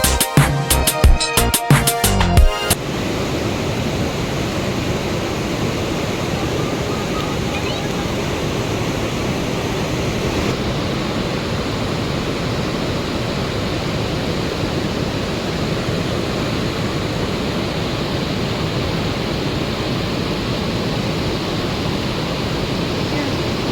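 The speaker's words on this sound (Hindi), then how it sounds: "और पानी का फोर्स देखो नीचे कितना तेज है।" The flooded Sharda river near Tanakpur rushing fast beneath a bridge, a loud continuous roar of churning water after a brief burst of clatter at the start.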